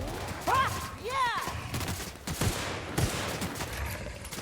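Gunfire bursts in the sci-fi shooter The Outer Worlds, rapid weapon shots popping through the middle and end of the stretch, mixed with game sound effects and electronic tones.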